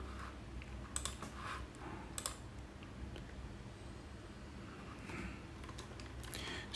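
Keys tap on a computer keyboard in quick, uneven bursts, soft and fairly close, with short pauses between clusters of clicks and a faint room hush underneath.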